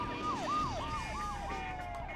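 Wailing police siren from the GTA III video game, a steady rising-and-falling electronic wail that sounds loud and close and continues without a break, with no voices over it.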